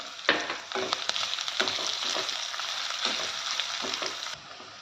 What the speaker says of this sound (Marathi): बारीक कापलेला कांदा टाकते तो लहान तर परतून द्यायचा आहे